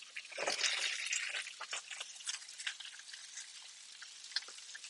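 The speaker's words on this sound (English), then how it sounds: "And then we're going to saute for 2 minutes" Green beans sauté in a pan, giving a soft, crackly sizzle with irregular pops and scraping, moderately faint and steady without any talk.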